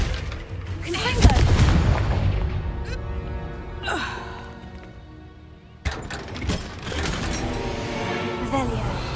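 Confringo blasting spell cast in Hogwarts Legacy, a booming magical impact with whooshing bursts amid game sounds and music, a second sharp blast near the end, no speech over it.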